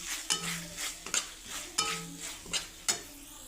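A spoon stirs pasta in a pan with red chili sauce and tomato ketchup, giving several distinct scraping and clacking strokes over a soft sizzle, close and moderately loud with no talk.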